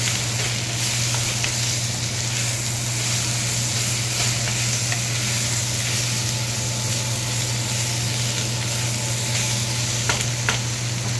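Fried capsicum and onion are stirred into spices in a kadai for paneer, giving a loud, continuous, even sizzle with faint scraping throughout and a low steady hum underneath.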